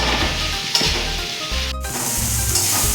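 Chopped tomatoes fry and sizzle in a pan with spices while being stirred, a steady close crackling hiss broken by occasional scraping stirs and small knocks, with no talking.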